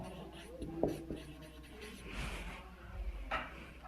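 Marker or chalk writing on a board during a chemistry lesson, faint scratchy strokes in short bursts under a low room hum.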